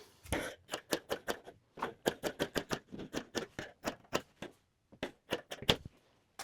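Scissors cutting through fabric interfacing, a quick series of crisp snipping clicks in uneven bursts with short pauses between runs, close and fairly quiet.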